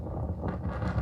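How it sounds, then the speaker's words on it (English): Gusty wind buffeting a microphone outdoors near a Porsche 911, a continuous low rumbling roar with fluttering surges, no voices. "it was windy that first day too, as you can hear."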